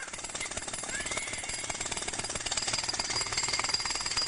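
A pneumatic drill hammers continuously, a dense, loud, rapid rattling that holds steady and grows slightly louder toward the end, with no voices.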